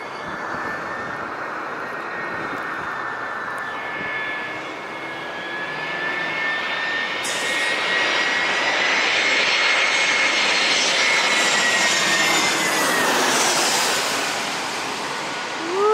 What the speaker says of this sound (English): Third one on the outskirts out over the mountains here is American 2056 coming in from Charlotte and the East Coast, A321-200